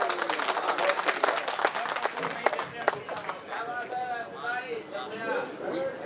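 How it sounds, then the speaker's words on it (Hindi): Loud audience applause breaking out at a national poetry recital gathering, a burst of dense clapping that fills the first few seconds, then fades under a voice speaking over the thinning claps. "एक बार जोरदार ताली।"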